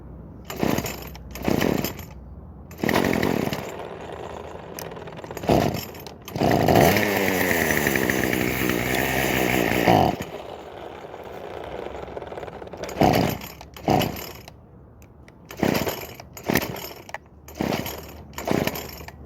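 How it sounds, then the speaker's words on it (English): Craftsman WS2400 electric pole saw running, with a loud sustained whine of several seconds in the middle surrounded by short bursts and clatter, close up and without talk. "I'm going to try this again so you can see and hear what the pole saw does"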